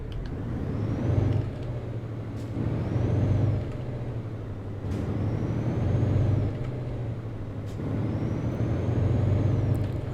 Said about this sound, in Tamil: ஐ திங்க் வண்டி கொஞ்சம் புல் பண்ண கஷ்டப்படுது பிகாஸ் ஆஃப் இட்ஸ் ஹெவி வெயிட்னால்